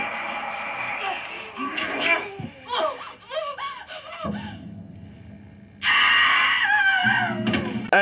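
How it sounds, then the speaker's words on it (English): Cats screaming in the horror film Jenifer: shrill, wavering yowls and squeals mixed with gasps and cries, then a sudden loud, noisy burst of film sound. "I like the cats screaming around."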